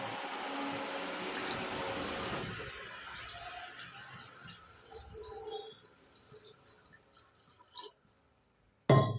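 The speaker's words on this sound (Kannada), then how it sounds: "ಈಗ ನಾನು ಒಂದು ಎರಡು ಗ್ಲಾಸ್ನಷ್ಟು ನೀರು ಹಾಕಿದ್ದೀನಿ" About two glasses of water pour into a heavy-bottomed pot for a coriander-root decoction, a loud, steady splashing for the first couple of seconds. Quieter drips and small knocks follow, with a sharp clatter at the end.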